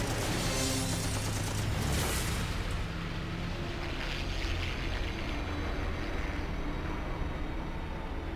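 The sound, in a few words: aircraft machine gun fire in WW2 dogfight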